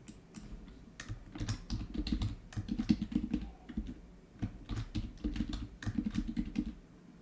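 Rapid keystrokes on a computer keyboard as a password is typed during a MySQL 8 installation on Windows 10: a steady run of close, crisp clicks in uneven bursts with short pauses, no voices.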